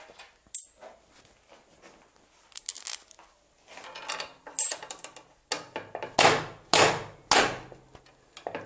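A hand slaps hard as a makeshift hammer on a metal Hi-Lift jack bracket being fitted to a Jeep, starting with scattered light taps and metallic clinks, then building to a series of loud, close, ringing bangs.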